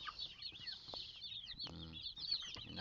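A crowd of three-day-old broiler chicks peep constantly in high chirps, with soft rustling and faint clucks beneath, close and fairly quiet.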